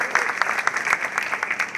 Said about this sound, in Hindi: जरा तालियों की गड़गड़ाहट इनके लिए हम बजाएं।